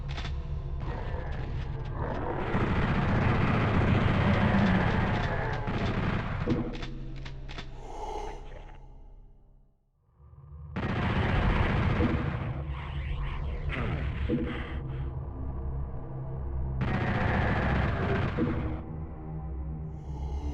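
Chaingunner enemies spraying fire in PS1 Doom: loud, dense gunfire in long bursts, broken by a short lull halfway through and then more volleys.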